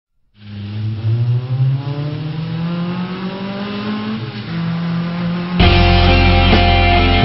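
A manual-shift car engine revs up steadily in rising pitch for several seconds, dips briefly, then jumps to a louder, harsher high rev near the end, close and alone with no talk.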